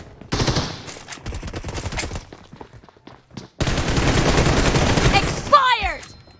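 Rapid machine gun bursts in a video game, loud sustained firing in two long stretches with brief pauses, with a voice talking over it.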